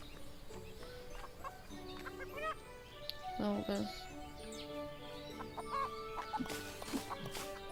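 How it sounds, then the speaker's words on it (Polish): Chickens cluck in the farm video game Everdream Valley, several short, soft clucks scattered over quiet background music, with a person's voice speaking briefly beneath them. "złapałam kurę"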